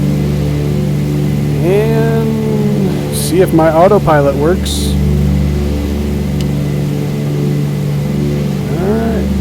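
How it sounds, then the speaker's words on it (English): Twin radial engines of a Douglas DC-3 in Microsoft Flight Simulator 2020 drone as a steady, low, close hum at reduced throttle, with someone talking over it. "I'll throttle back a bit here so I don't blow my engines up."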